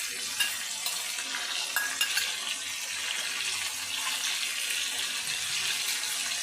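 Chicken that has already been lightly fried sizzles steadily in a pan after sour yogurt is added for a chicken kosha curry, with a constant close hiss and a few brief clinks of stirring.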